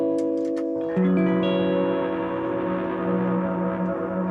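An electric guitar is played through a distortion patch on a Boss GT-1000 Core effects processor, with a few muted picked notes leading into a sustained, heavily distorted chord ringing with reverberant, echoing decay.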